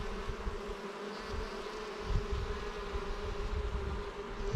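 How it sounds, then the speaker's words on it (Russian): Honey bees buzz in a dense, continuous drone around an open hive during a mite inspection, close and steady throughout with no talking. "Что-то пчелы бегают как сумасшедшие."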